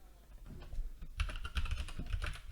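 Fast, steady keystrokes on a computer keyboard, close and fairly quiet, a quick run of clicky taps with no talk over them.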